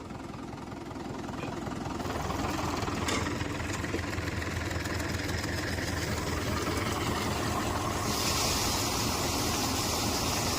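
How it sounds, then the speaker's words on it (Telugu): A tractor engine runs steadily while drawing water from a pond, a continuous chugging drone that holds an even, loud level for the whole stretch with no talk. "ట్రాక్టర్తో వాటర్ కూడా ట్రాక్టర్తో తీసుకున్నాము"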